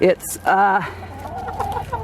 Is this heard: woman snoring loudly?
no